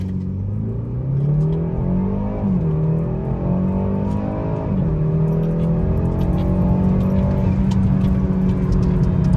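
A tuned BMW B48 four-cylinder car accelerates hard from launch control, the engine note rising in pitch through several gear changes, loud and continuous from inside the cabin, with no talk.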